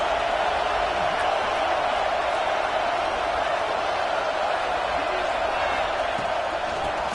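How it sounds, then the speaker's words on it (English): Steady roar of a stadium crowd in a college football video game, a dense, unbroken wash of cheering and noise that holds evenly throughout without clear peaks. "Listen to the crowd energy here in the early going."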